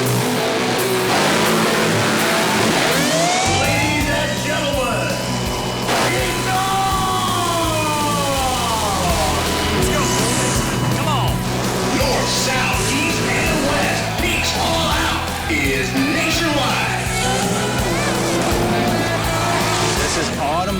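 Drag racing cars at a Detroit event roar and accelerate loudly, with engine whine sweeping up through gears and crowd yells mixed in, continuous throughout.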